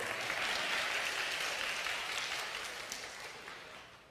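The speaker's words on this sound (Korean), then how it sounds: "박수" An audience claps loudly together, a dense burst of applause that slowly fades away over a few seconds.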